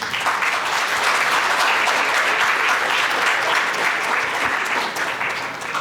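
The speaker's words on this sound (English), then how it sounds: "That deserves a round of applause." A lecture audience gives a steady round of applause, a dense continuous patter of many hands clapping that stays even for several seconds and eases slightly toward the end.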